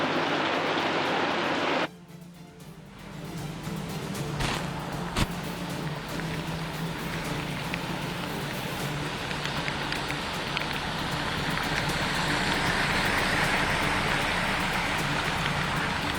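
Heavy rain pours onto a flooded road in Chennai's Santhome area during Cyclone Fengal, a dense, continuous hiss of rainfall that drops briefly, then swells again with passing traffic noise underneath.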